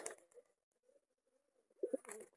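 Pigeons being fed bread give soft, faint cooing, with a low coo mid-clip and a couple of brief, louder bird calls near the end, in otherwise quiet surroundings.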